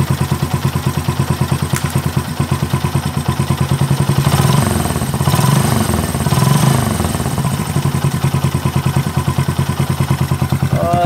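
A Honda CT125 motorcycle engine idles steadily after carburetor air-fuel mixture tuning, a close, loud, even mechanical chugging around 1,000 to 1,300 RPM with a rapid regular pulse and slight swells in the middle.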